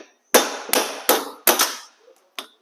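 Hammer blows knocking Miata hub studs out of a hub clamped in a vise, five sharp metallic strikes in an uneven rhythm, close and loud, with short gaps between them.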